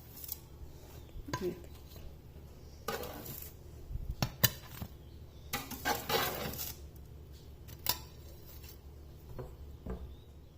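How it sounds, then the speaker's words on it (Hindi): Freshly baked mini chicken tikka pizzas are set onto a serving plate, with scattered soft clinks, scrapes and taps of utensils and dishware at close range, separated by quiet gaps. "अब इन्हें सर्विंग प्लेट में रख लेते हैं।"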